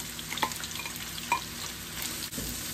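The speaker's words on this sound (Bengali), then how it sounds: "এখন আমি পেঁয়াজটা ভাজা ভাজা করবো" Chopped onions fry in oil with spices in a soft, steady sizzle, with a few faint utensil clinks and scrapes, heard close and quiet with no voices.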